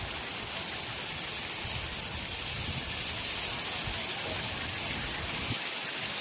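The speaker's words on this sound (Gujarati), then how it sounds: "જોરદાર વરસાદ આવી રહ્યો છે પવન પહેલાં બહુ વાયો વરસાદ શરૂ થઈ ગયો છે" Heavy unseasonal rain falls in Chalala after strong wind, a dense steady hiss of downpour with a faint watery rush, continuous and fairly close, no voices.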